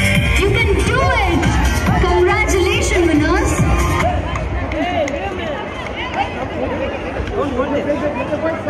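Crowd noise at a school annual sports day race, a steady wash of cheering voices and shouts from spectators, with a loud announcer-like voice over the top urging the runners on.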